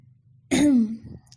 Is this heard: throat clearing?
yes